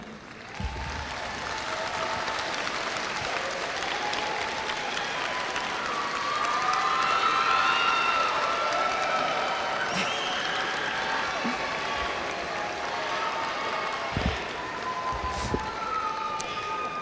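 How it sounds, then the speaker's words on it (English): At a 2021 eStem graduation commencement, the audience applauds in a steady, sustained roar for over fifteen seconds, with scattered whoops and cheering voices rising above the clapping. "Y'all clap it up for them."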